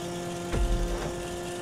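Car in GTA 5 drifting on bare rims after losing its tires, a brief low scraping rumble with a couple of quick swells over steady engine hum, with no talking.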